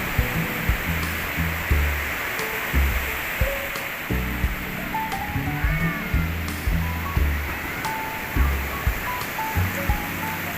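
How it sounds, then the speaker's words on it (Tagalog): Surf washes steadily onto the beach at Baler, Aurora, a continuous broad rushing hiss with gentle swells rising and falling, heard close and alone with no talk. "Dito, tabing dagat ng Baler."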